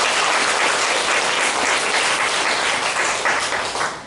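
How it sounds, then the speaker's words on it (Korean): Dense applause from a church congregation fills the room evenly, loud and sustained for several seconds before starting to fade at the end. "자랑스러운 평택인으로 뽑힌 우리 이운지 양으로서 큰 박수를 부탁드리겠습니다."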